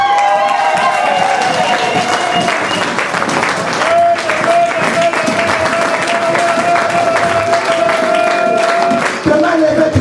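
A church congregation claps and cheers loudly in praise, dense sustained applause with shouting voices throughout, a full room of people close around.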